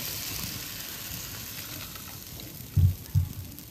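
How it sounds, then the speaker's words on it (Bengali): Potatoes frying in hot oil in a pan, a steady soft sizzle throughout with two brief louder bumps near the end, likely pieces being moved or stirred. "আর এবারে আলুগুলো ভাজবো।"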